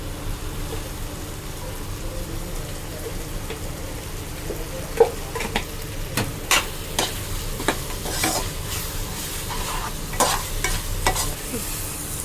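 Mutton curry sizzles and fries in a pan, with a spoon or spatula scraping and stirring in irregular bursts over a steady hiss, close and fairly loud, no voices.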